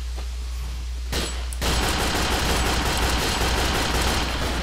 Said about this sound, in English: I apparently have a light machine gun, so I'm going to go ahead and lay down.